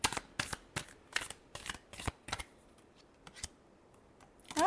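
Tarot cards are shuffled close up in a rapid series of crisp riffling bursts, about seven strokes followed by softer, scattered card handling and a final riffle, with no speech.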